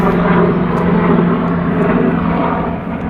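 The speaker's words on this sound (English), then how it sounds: "It's a chopper." A helicopter passes overhead, giving a loud, steady, broadband drone of rotor and engine noise that holds for the whole stretch with no one speaking.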